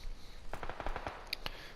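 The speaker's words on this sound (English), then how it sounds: "More gunfire off to my left." Distant PUBG gunfire in a solo Erangel match, a quick burst of several rapid shots followed by a couple of sharper single cracks, fairly faint and off to one side.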